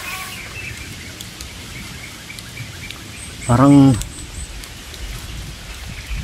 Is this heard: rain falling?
yes